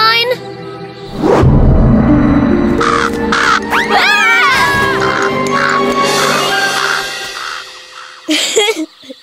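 A crow caws loudly several times in a cartoon scene set in dark woods, with sweeping swoosh effects and a low rumble underneath, amid music and character voices.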